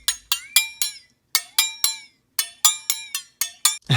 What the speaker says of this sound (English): It's kind of like where I was hitting the spatulas, I believe.